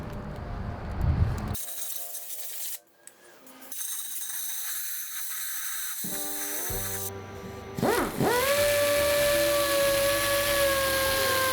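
A power sander grinds road rash, pitting and clear coat off Harley Dyna fork tubes, with loud uneven whirring broken by short pauses and rising to a steady high whine toward the end.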